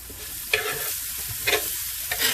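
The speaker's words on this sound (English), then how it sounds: "I want to add some onions to this grill" Onions sizzle on a hot grill in leftover skirt steak juices and seasoning, a steady close frying hiss with a few louder scraping stirs spaced through it.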